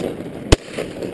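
A single shotgun blast during a ringneck pheasant hunt outdoors, one sharp loud report over steady wind noise.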